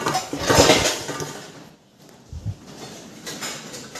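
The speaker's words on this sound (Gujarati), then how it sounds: "હવે વાસણ ગોઠવી દઈએ" Metal kitchen utensils clatter and clink as they are stacked and arranged, a busy burst of clanking up front, then a brief pause and a few quieter knocks, with no talking.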